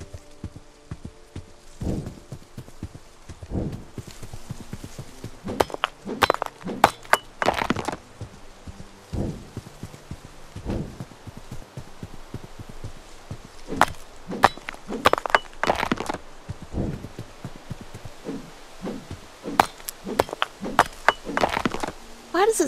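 A pickaxe strikes rock in the survival video game Grand Emprise, giving sharp, cracking hits in irregular bursts, sometimes several in quick succession, over a quiet ambient background.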